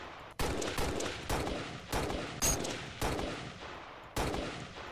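DMR rifle from a Halo Reach weapon pack fired in Garry's Mod, six sharp, loud single shots spaced about a second apart, each with a short decaying tail.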